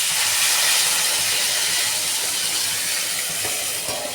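Water poured into a pan of frying Jyoti potatoes for aloo dum brings up a loud, steady broadband sizzle and hiss that fills the whole stretch without pause.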